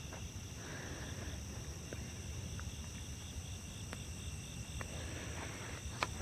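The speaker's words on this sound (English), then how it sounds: "you can hear the crickets" Crickets trill steadily outdoors at night, a faint high continuous chirping over a low background hum, with a few brief clicks.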